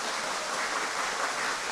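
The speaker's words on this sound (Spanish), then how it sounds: "Démosle un fuerte aplauso." An audience at a pastoral conference in Apartadó breaks into applause; dense, even clapping from a crowd holds steady and fairly loud throughout with no voices over it.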